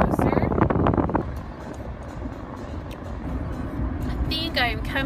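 A car driving along a city street, a low steady road rumble with wind noise from inside the cabin, while a person talks over it at the start and end.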